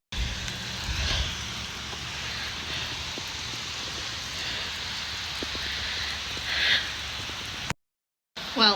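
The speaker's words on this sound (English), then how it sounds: "It is pouring rain and I am saturated, dripping wet. It's so heavy." Heavy rain pours down in a steady, dense hiss, fairly close and loud, with a few brief louder gusts of splatter and a short dropout near the end.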